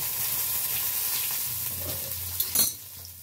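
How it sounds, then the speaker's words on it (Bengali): Cumin seeds and bay leaves sizzle and crackle in hot oil in a pan, with a steady frying hiss, light stirring, and a sharper spatter burst near the end; no one speaks. "তেলটা একদমই গরম হয়ে গেছে, আমি এবারে একটু সিম করে দিচ্ছি। হ্যাঁ, আর এতে এই যে আমি একটু এখানে দিয়ে দিলাম জিরে আর একটু তেজপাতা"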